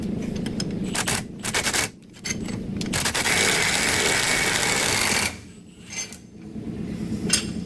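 A nut is worked off the rear differential of a Dodge Ram 3500, a loud, close, rapid buzzing of a power tool in bursts with short pauses and metallic clinks, no talk.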